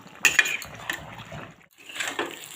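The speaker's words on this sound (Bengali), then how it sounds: "এবার আলুগুলোকে দিয়ে আমি এইভাবে কষে নেব" Fried potatoes are stirred in a pan for chicken kosha with a few close scraping clinks of a spoon on metal and a soft wet shuffle, quiet and brief.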